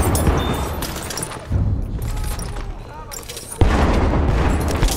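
Battlefield 1 on Xbox One in a Conquest match: heavy booming explosions with gunfire crackle, a sharp loud blast near the end, while a player talks over the combat.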